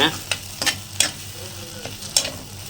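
Goat brain podimas with mutton masala being stirred in a pan, a spatula scraping and tapping in several sharp strokes over a soft, steady sizzle, no talking.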